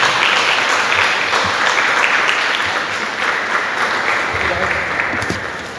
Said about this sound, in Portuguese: e as palmas agora no nome do Senhor